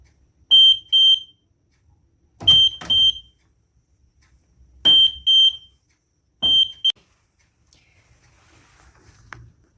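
A shrill electronic buzzer from a vibration-sensor alarm sounds in four short bursts of double beeps, each set off by a knock or tap, with silence in between.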